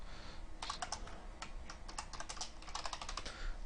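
Rapid, uneven clatter of fingers typing on a computer keyboard, close and steady, with no voices over it.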